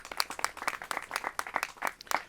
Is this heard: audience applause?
yes